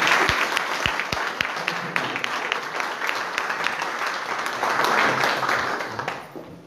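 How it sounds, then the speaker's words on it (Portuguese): Church congregation applauding during a service, a dense, sustained round of clapping from many hands that swells and then fades out near the end, with some faint voices mixed in. "Podemos aplaudir o Senhor?"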